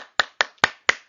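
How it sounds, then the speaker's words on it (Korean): Four separate sharp hand claps in a steady rhythm, close and fairly loud, with brief silence between them and no talking, at the close of a Korean high school social studies exam lecture. "자, 우리 다 같이 박수."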